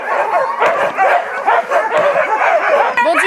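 Excited sled dogs, husky-rottweiler crosses at a sled-dog outfit near Mont-Tremblant, Canada, bark, yip and whine in a loud, overlapping chorus close by, eager to run.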